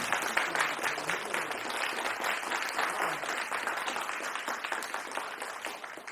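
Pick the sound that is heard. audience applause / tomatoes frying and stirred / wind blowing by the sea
audience applause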